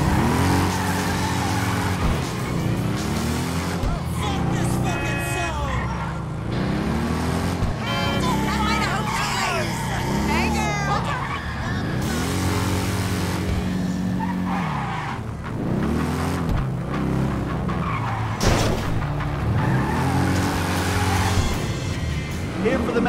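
LCC Sanctus motorbike ridden in a driving video game: a loud, steady engine drone that climbs and falls in repeated revving sweeps as the gears shift, with skidding tires and someone talking over it at times.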